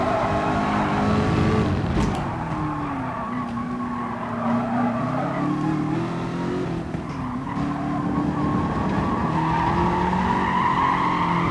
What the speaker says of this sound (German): Aber wieso dreht es denn die Karre immer gleich?